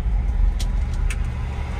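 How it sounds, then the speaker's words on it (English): A 1968 Ford F-250 Highboy 4x4 pickup with a four-speed drives along, its engine a steady low rumble up close with a few faint knocks from the cab. "If you've never driven one of these old pickups, they are bouncy."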